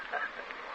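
Birds in a radio drama honk and squawk in a brief burst, a short goose-like cry of moderate loudness, with no talk over it.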